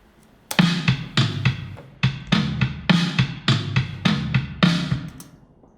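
A fast drum fill of rapid, punchy hits, snare and toms rolling in quick succession for several seconds before stopping.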